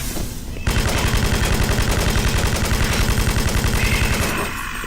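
Rapid SMG fire in the Doom 3X mod, a dense, continuous burst of loud, beefy automatic shots starting after a brief quiet lead-in and running steadily for about four seconds before tapering off.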